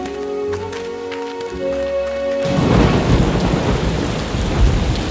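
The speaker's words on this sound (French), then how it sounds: "par une nuit d'orage" Cartoon thunderstorm effect at night: a heavy, loud wash of rain and rolling thunder swells in halfway through and continues steadily to the end, replacing a quieter musical bed.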